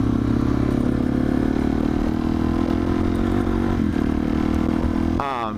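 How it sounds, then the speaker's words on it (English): A motorcycle's exhaust drones at a steady, loud idle close by and holds the same low rumble throughout. It trails off slightly at the end, and no one speaks. "Sick fucking exhaust."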